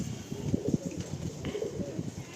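A tagged female pigeon at a pigeon loft coos softly in low, throaty repeated notes, close by, against a steady background hum.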